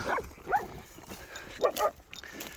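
Several short dog barks, sharp and close, scattered irregularly over a couple of seconds with some background noise, while a cow is being herded.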